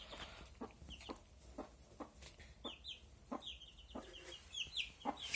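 Small chicks, hatched naturally under a broody hen, peck at scattered grain feed, giving a series of quiet, evenly spaced taps mixed with soft high peeping chirps, close by with no talking.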